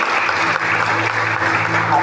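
A church congregation claps together, a brief burst of steady applause with a low hum and faint voices underneath.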